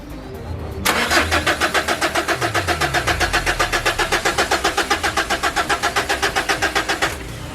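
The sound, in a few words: Mitsubishi Triton engine cranking long, hard to start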